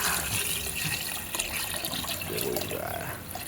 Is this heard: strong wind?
no